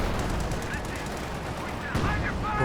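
Coaxial machine gun on a tank in Company of Heroes 2 rattles in a dense continuous burst, loud and close, with battle noise layered around it and no talking.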